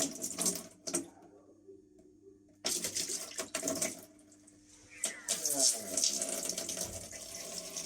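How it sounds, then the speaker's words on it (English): Automatic transmission oil trickling and dripping from the drain hole of a Mercedes-Benz 7G-Tronic gearbox in a workshop, with intermittent clinks and rustles; faint, irregular drips and light metallic handling noises close by. "the oil is only dripping out"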